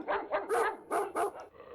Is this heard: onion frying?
no